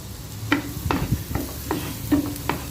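Garlic frying in melted butter in a pan with sautéed shrimp, a soft continuous sizzle broken by several sharp scraping strokes of a spatula at a steady, unhurried pace.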